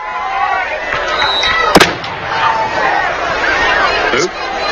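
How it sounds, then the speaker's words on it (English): Fireworks burst at a high school football game, one sharp loud bang standing out over a noisy crowd and a talking announcer, with crackling pops scattered around it. "Boom go the fireworks."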